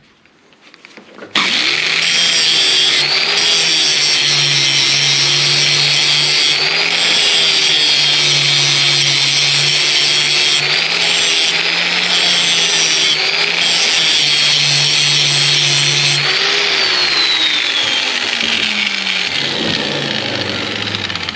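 An angle grinder sharpens a lawn mower deck blade in one long, steady, loud run of metal grinding, its pitch wavering slightly as the disc moves along the edge, then winding down near the end.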